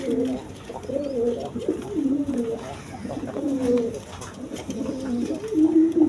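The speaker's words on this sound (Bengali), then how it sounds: "রানিং পিয়ার ডিম বাচ্চা করানো কবুতর" Domestic pigeons kept as breeding pairs coo repeatedly, low rolling calls overlapping one another at close range with a faint background hum.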